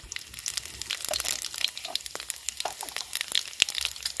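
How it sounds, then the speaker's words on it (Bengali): Bay leaf, whole garam masala and cumin seeds sizzling in hot oil in a home kitchen, a steady crackly fizz with small sharp pops scattered throughout, close and moderately loud. "তেজপাতা দিলাম, গোটা গরম মশলা দিলাম, গোটা জিরে ফোড়ন দিলাম।"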